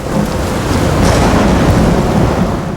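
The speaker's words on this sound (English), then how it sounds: "그러나 바람은 더 거세지고" A violent storm surges in with howling wind, heavy pounding rain and deep rumbling thunder, loud and continuous throughout with no voices.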